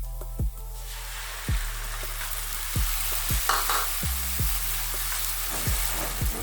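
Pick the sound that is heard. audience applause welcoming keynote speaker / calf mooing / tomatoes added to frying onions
tomatoes added to frying onions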